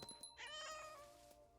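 A cartoonish cat in the video game What Remains of Edith Finch meows in a long, whiny call, clear and isolated, with a faint electronic tone lingering behind it.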